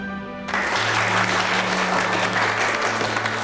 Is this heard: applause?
yes